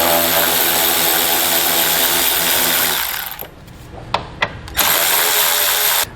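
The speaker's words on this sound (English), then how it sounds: "grab a 10mm socket, and we're going to pull all the bolts out of the top here" Power tool driving a 10mm socket to pull bolts from the roof of a 2019 Chevrolet Sonic: a loud sustained whirring buzz that stops, three short sharp bursts, then another sustained run.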